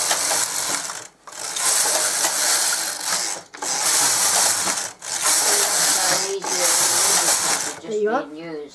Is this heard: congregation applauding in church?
no